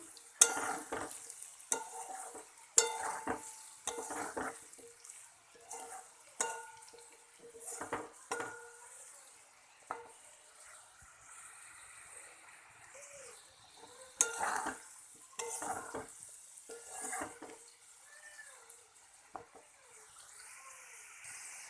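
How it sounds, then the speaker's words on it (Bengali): Small potato pieces fry in oil under a lid, a soft steady sizzle broken by frequent clattering knocks and stirring scrapes of utensils against the pan, fairly quiet and close. "এটা তেলের ওপরে আমি এইভাবে ঢাকা চাপা দিয়ে ভেজে নেব"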